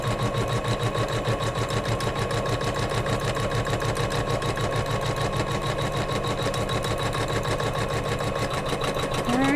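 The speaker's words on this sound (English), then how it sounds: "So there we are, stitching down our batting." A sewing machine stitches down batting on a Kimberbell quilted pillow block, running at a loud, steady, rapid mechanical rhythm from start to finish without interruption.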